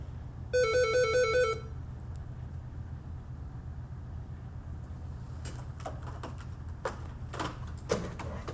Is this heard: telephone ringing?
yes